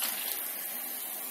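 Liquid being poured into a pan while cooking a fenugreek spinach keema curry, a steady hissy gush of pouring at close range that runs continuously without pause.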